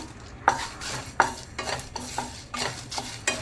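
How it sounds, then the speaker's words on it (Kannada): Cumin, fennel and black pepper dry-roast in a pan on a low flame for mushroom kadhai masala, with a spoon scraping and stirring in several distinct strokes over a soft, dry crackle, close up. "ಮತ್ತು ಬಡಿಸೊಪ್ಪು ಇದನ್ನು ಮೂರನ್ನು ಹುರಿದುಕೊಳ್ಬೇಕು. ಲೋ ಫ್ಲೇಮಲ್ಲಿ ಅದರೊಟ್ಟಿಗೆ ಮೆಣಸು ಸಹ ಹಾಕಿ"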